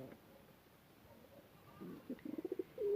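Pigeons at a loft coo beside a young ginger pigeon about two months old sitting among scattered corn. Soft, low, rapid coos rise after a quiet stretch of outdoor ambience, close and moderately loud.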